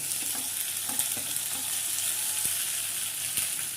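Bhakosa frying in hot oil with mustard seeds, cumin and curry leaves, giving a steady close sizzle with occasional soft stirring clinks and no voices.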